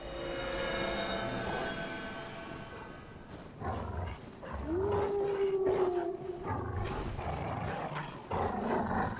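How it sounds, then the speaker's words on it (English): Wolves in the video game Dark Souls III let out a sustained, mid-pitched howl partway through, rising from a steady backdrop of game ambience and rumble. "Why are the wolves just sitting here doing nothing?"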